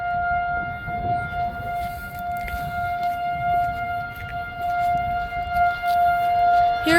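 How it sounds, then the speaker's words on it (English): A tornado siren at a school in Inver Grove Heights, Minnesota, wails steadily during tornado awareness week, a loud sustained tone heard outdoors with faint background noise and no talking. "there's a tornado siren by every school in this place"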